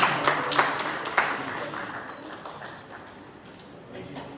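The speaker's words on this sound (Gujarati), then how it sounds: "તાળીઓના ગણગણાટથી વધાવી લો નમ્ર વિનંતી" Audience applause at a Covid warrior award ceremony: a burst of clapping that thins and fades over a few seconds, with voices talking underneath.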